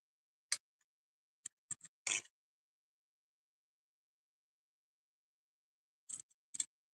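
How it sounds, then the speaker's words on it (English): A handful of short, crisp snips of scissors cutting cardstock in two clusters separated by a long silence, close and quiet, with no voices. "Try to keep your scissors still and just rotate your cardstock."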